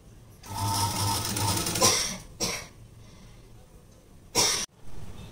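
A sewing machine runs in a long burst lasting over a second while stitching thread piping onto a blouse lining, then gives two short quick bursts after pauses, each close and clear with no voices.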